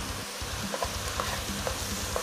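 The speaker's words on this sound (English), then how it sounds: "And you can hear that sizzle." Liquid sizzles and crackles steadily in a hot pan, close up, with faint stirring sounds and no voices.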